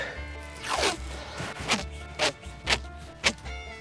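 Tape pulled off a roll in a series of about five quick ripping strips, each a rising tearing zip, close and fairly loud, the later pulls shorter and sharper.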